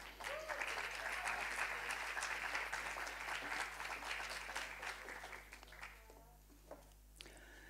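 Applause at a university graduation ceremony for psychology and sociology master's graduates: a sustained round of many clapping hands in a hall, fading away over the last couple of seconds, with a low steady hum beneath.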